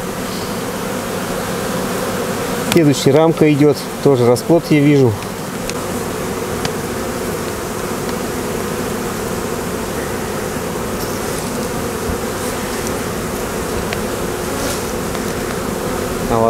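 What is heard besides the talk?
honey bees buzzing at a hive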